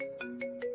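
A phone ringtone chimes in a short repeating electronic pattern, three quick tonal pulses, clear and close with no voices.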